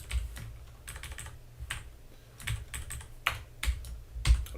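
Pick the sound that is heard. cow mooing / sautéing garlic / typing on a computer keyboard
typing on a computer keyboard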